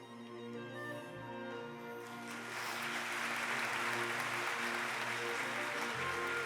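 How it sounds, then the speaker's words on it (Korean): Applause for award winners fills a police appointment ceremony hall, starting as scattered clapping and swelling into a broad, sustained ovation from a large crowd. "수상자들에게 다시 한번 축하의 박수 부탁드립니다"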